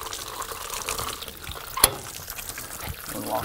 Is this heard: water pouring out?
yes